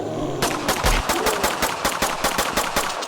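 A gun fires repeatedly at a giant zombie boss in an indie survival video game, producing a loud, regular burst of sharp shots at a quick steady rhythm, with no talk.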